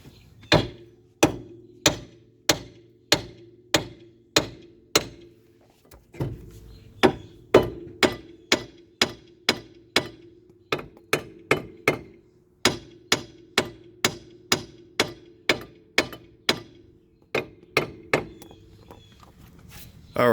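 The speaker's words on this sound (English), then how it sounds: "just kept hammering at it, just rust welded in there" Steady hammer blows pound a rusted, rust-welded lower ball joint on a 2002 Jeep Liberty front suspension, sharp metallic strikes in regular bursts of several hits with short pauses, loud and close.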